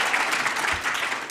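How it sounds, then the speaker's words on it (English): A meeting audience at an annual general meeting claps steadily throughout, a dense, even roar of many hands with no break. "I need an applause."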